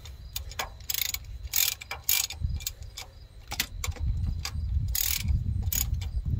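Ratchet wrench clicks rapidly in bursts while tightening bolts on a Peterbilt 379 steering gear, close and loud, with metallic clatter and a low mechanical rumble beneath.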